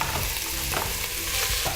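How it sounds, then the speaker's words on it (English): Loud, steady sizzling of peppers, onions and celery frying in a hot pan, with a few soft scraping stirs breaking through the crackle. "Lots of sizzling."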